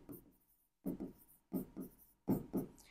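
Marker or chalk strokes on a board during an accounting lesson, four short scratchy bursts in an uneven rhythm, close and clear with no talk.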